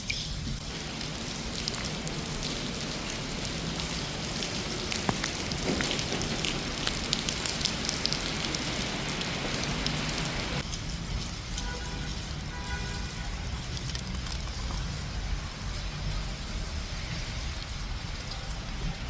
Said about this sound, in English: It's raining, it's wet, it's crazy.